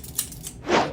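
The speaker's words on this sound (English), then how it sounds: "I wanna snip this with some scissors" Scissors snip through material while working on a sublimation T-shirt, giving a few faint clicks followed by one louder, close cutting swish near the end.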